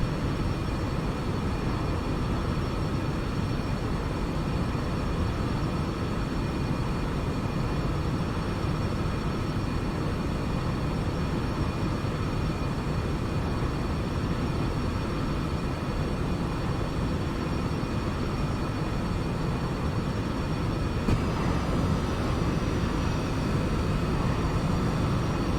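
A Boeing 747 in the X-Plane 11 flight simulator produces a steady, even jet engine roar with faint high whining tones, constant and unbroken for the whole stretch, with no talking.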